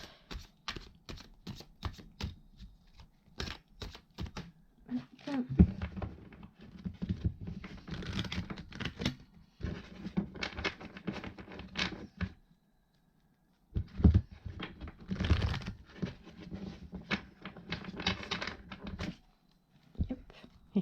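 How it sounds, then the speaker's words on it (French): Oracle cards shuffled quickly by hand, a dense run of crisp papery riffles and taps in bursts with short pauses, close and fairly quiet. "Je vais essayer de, comme je dis, touiller mes cartes de façon plus rapide cette fois"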